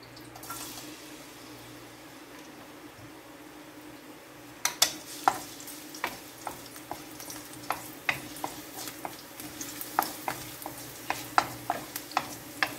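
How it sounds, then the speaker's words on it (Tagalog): Garlic sizzles in a little canola oil in a pan with pork for sautéed chayote, a steady frying hiss overlaid with sharp clicks of stirring from a utensil that grow frequent. "Ayan, lagay ko po yung bawang."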